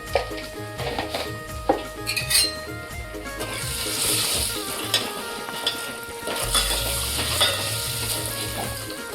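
Red chilli powder, homemade masala, turmeric and ground spice paste fry loudly in hot oil for a fish curry, a constant sizzle broken by the clink and scrape of a stirring spoon against the pan.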